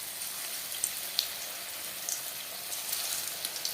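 Battered cauliflower pakoras frying in hot refined oil, giving a steady, fairly quiet hiss and crackle with a few sharper pops, heard alone.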